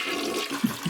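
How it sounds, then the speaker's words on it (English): A toilet flushing at close range, a brief rushing gush of water with a couple of gurgling swells and no voices. "it gets flushed down the toilet"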